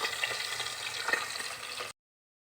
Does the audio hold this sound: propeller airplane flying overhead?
no